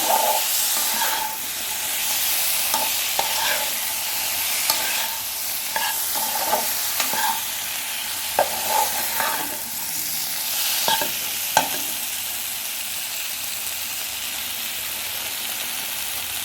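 Chopped tomatoes fry with potatoes for a rohu fish and potato curry, a constant loud sizzle and hiss broken by irregular scrapes and clinks of a spoon stirring the pan, with no voices.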